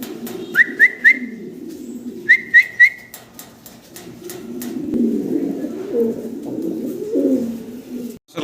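A pair of Black Danish fancy pigeons coo in low, throaty rolls nearby, with two quick sets of three sharp whistle-like chirps near the start.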